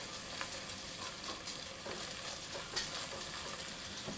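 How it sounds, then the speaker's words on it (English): Food sizzles and crackles steadily while frying in a pan, with faint stirring clicks and scrapes; the sound is close, continuous and unaccompanied by voices. "we've got a nice sizzle going"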